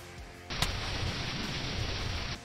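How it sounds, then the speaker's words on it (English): An explosion from Majin Buu in a Minecraft Dragon Ball Z game, a loud sustained roaring blast that bursts in suddenly and holds steady for about two seconds alone. "exactly at the same time, Majin Buu did his explosion thing, so we both died"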